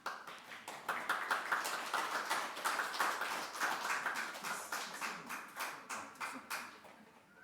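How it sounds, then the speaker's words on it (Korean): Congregation in a church applauding as a pastor is welcomed at an ordination thanksgiving service: steady, dense clapping from many people filling the room, gradually thinning out toward the end, with no talk over it. "나오실 때 큰 박수로 맞아주시기 바랍니다."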